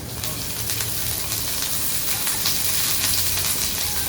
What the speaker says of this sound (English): Little bit of extra virgin olive oil to encourage that grilling and sizzling.